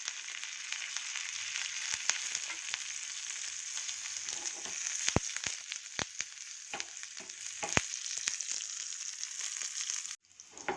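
Mustard seeds, chana dal, urad dal, fenugreek, cumin, a green chilli and curry leaves temper in hot oil, giving a steady close sizzle dotted with sharp pops and crackles that breaks off abruptly near the end.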